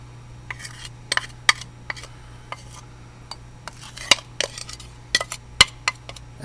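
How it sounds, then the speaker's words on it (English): A utensil scrapes and clinks against a bowl while eggs are mixed into almond cake batter, giving irregular sharp taps and rubs over a low steady hum, close and fairly quiet. "Now what you have to do is add your eggs, and you're going to mix"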